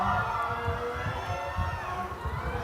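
Steady crowd noise at a youth U-18 and U-20 bouldering finals in Graz, a dense murmur of cheering and shouting voices filling the hall without clear peaks.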